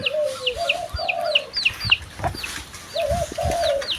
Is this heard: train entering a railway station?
no